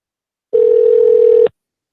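A return phone call being placed gives a single steady electronic tone lasting about one second, clean and alone, starting and stopping abruptly with silence on either side.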